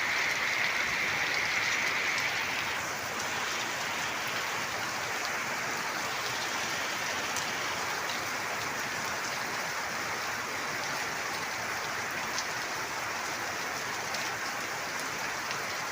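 Dense, steady downpour hisses without a break, heavy rain pouring continuously in Sylhet with no voices, a brief higher whine fading in the first seconds.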